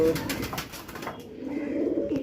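Pigeons coo close by, a low, rolling murmur that runs throughout with soft rustling mixed in.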